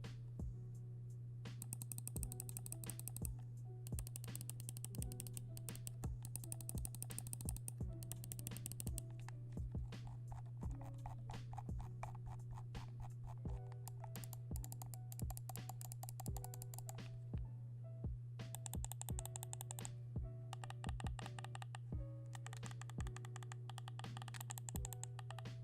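Rapid clicking from an Ajazz i305 Pro wireless mouse, a steady run of crisp, close clicks over a constant low hum, with a short lull near the middle.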